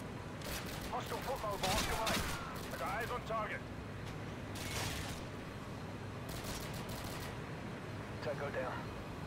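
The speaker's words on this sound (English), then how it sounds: "Is it that guy shooting at me?" Distant bursts of rapid gunfire in Modern Warfare 2 on an oil rig, several crackling volleys spread across the moment, quiet and partly under someone talking.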